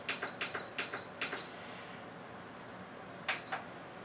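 A slow cooker's control panel beeps as it is set for an eight-hour cook: four quick, clear electronic beeps in a row, a pause, then one more beep, all close and alone over faint room hum.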